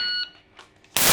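A shot timer gives a short, sharp electronic start beep, then a brief hush before a loud, abrupt blast of gunfire at the range.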